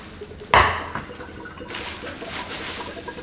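Water gushing out of a cut coconut, a sudden splash followed by a steady trickle and dribble that continues close by, with no talking over it.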